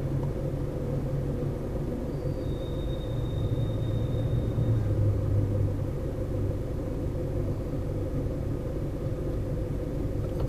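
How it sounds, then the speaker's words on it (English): Steady rumble of midday street traffic in Chicago's Wicker Park–Bucktown area, cars passing at moderate distance with a continuous low engine drone and a brief faint high whine partway through. "You can see what kind of traffic and activity is going on over here."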